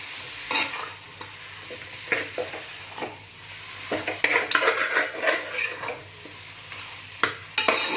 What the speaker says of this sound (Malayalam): റെഡിയാക്കി വെച്ചിരിക്കുന്ന മട്ടൻ ഇതിലേക്ക് ആഡ് ചെയ്ത് കൊടുക്കാം. എന്നിട്ട് നന്നായിട്ട് ഇളക്കി കൊടുക്കണം.